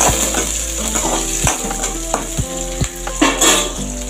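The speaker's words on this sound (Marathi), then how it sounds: "हिरव्या मिरच्या पण चांगल्या परतून घ्यायच्या।" Green chillies sautéing in a pan with crushed garlic, a steady close sizzle broken by several sharp stirring scrapes and clatters against the pan, with no talking.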